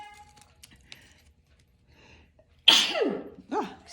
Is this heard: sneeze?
yes